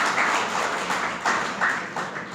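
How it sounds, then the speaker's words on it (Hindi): Seminar attendees at a Bhagavad Gita session in Jaipur clap together in a short burst of applause that is moderately loud and ends after a couple of seconds. "ताली बजाइए एक बार।"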